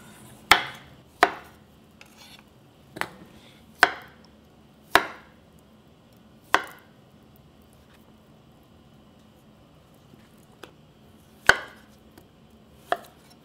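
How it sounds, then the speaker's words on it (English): Taro being cut into bite-sized pieces with a knife on a cutting board for Korean taro soup: about ten sharp, close chops in an irregular rhythm, separated by quiet pauses. "So each toran, we are going to cut this in bite-sized pieces."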